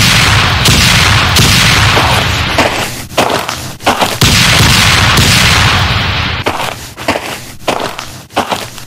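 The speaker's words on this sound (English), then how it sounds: "I will order you to fire the mortars, so do it." Mortar fire in a Vyond animated battle: loud, booming blasts and crackling volleys fill the scene in sustained waves, separated by brief gaps.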